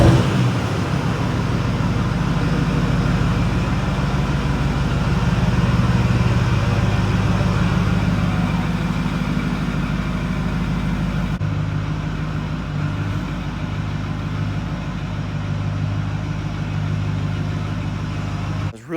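A pickup truck's engine runs at a steady mid-pitched idle while backing up, loud and close, with a continuous low rumble that shifts slightly in tone partway through; no one speaks.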